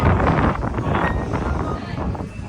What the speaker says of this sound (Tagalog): kita nyo naman napakalakas ng hangin dito guys